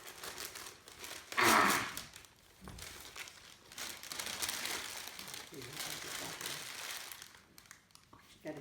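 Heavily wrapped, taped Christmas present being unwrapped by hand, with a burst of loud paper crinkling and tearing followed by softer rustling, under an exclamation and steady talk from several people.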